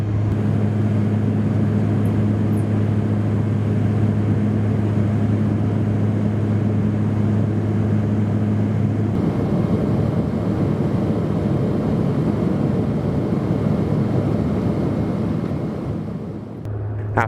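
Cabin of a Dornier 328 turboprop airliner in cruise between Calgary and Edmonton: a loud, steady engine drone with a constant propeller hum that shifts to a broader roar partway through, with no talking.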